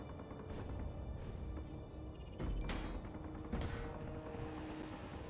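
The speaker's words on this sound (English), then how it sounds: "That was a lot of explosions I just heard." Rapid bursts of explosions and gunfire from an RV combat video game, several loud blasts in quick succession over a steady engine-like drone, with no talking.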